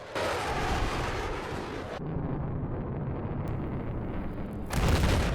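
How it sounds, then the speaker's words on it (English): Heavy AC-130 cannon fire in Battlefield 4 booms in a continuous, dense barrage of deep blasts, dropping briefly before another loud burst at the end. "The primary gun on the plane is the same as a tank cannon"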